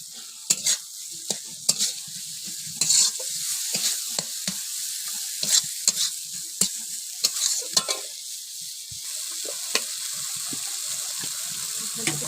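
Tomatoes sizzle in a pan for a village-style fish curry, a steady close frying hiss broken by repeated sharp scrapes of stirring.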